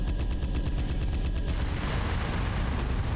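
Sustained rapid-fire chain gun in the mech combat game Armored Core 3: Silent Line, a dense continuous loud rattle of overlapping shots that runs without pause and turns noisier and rumbling in the second half.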